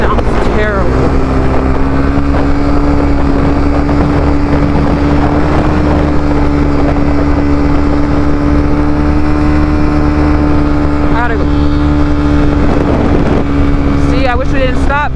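A Honda CBR300 motorcycle engine drones steadily while riding, loud and close under heavy wind buffeting, with the pitch rising slightly and a voice speaking at times.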